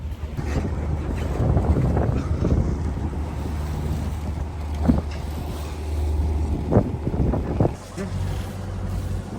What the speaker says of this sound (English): Sailing around the southern tip of Okinawa, Arasaki.